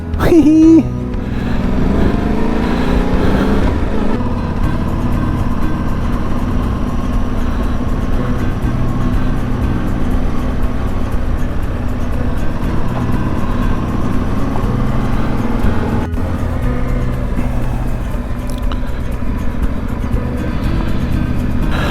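Yamaha Tenere 700 motorcycle riding along the Trans-Canada highway on Prince Edward Island, with a loud, steady engine drone and wind rush that continue without a break.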